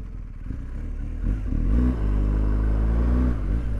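A superbike engine rumbles and revs while the locked rear tire scrapes and skids along the ground in a power slide, loud and close.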